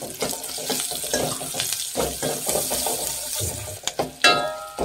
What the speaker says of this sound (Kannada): ಖಾರಕ್ಕೆ ಹಸಿಮೆಣಸಿನ್ಕಾಯಿ, ಒಂದು ಅರ್ಧ ಈರುಳ್ಳಿ ಹಾಕ್ತಾ ಇದ್ದೀನಿ. ಇದಷ್ಟೇ ಚೆನ್ನಾಗಿ ಫ್ರೈ ಮಾಡಿ.